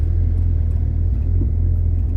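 A cold 1981 Ford Mustang engine idles rough on a winter day, a steady low rumble with an uneven throbbing pulse, close and continuous throughout.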